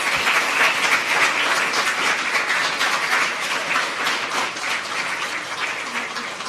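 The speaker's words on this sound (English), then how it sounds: "Please join me in a round of applause for the incredible Paula Torres." A dense, steady round of audience applause honors retiring Paula Torres at a school district board meeting, sustained loudly throughout with no talk over it.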